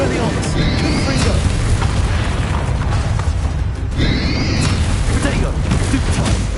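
Confringo fire-blast spell cast in the video game Hogwarts Legacy, a loud booming burst with whooshing swells that repeats twice over a steady, dense game soundscape.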